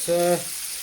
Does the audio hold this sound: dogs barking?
no